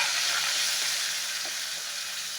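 Fenugreek seeds crackle and sizzle in hot oil while tempering for a besan vegetable dish, a steady close hiss with faint scattered pops and no voices.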